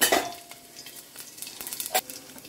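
Garlic frying in a pan for dal soup, a soft sizzle with a few brief stirring scrapes and clinks of a utensil against the pan, close and fairly quiet.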